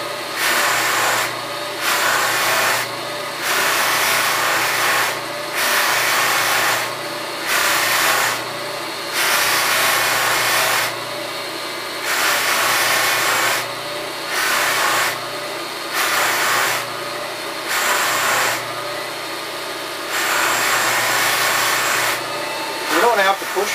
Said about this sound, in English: You don't have to push real hard in these buffing wheels either.